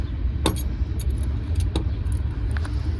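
A set of keys jangles in several short metallic bursts near the microphone, over a low rumble of passing traffic, with no talking.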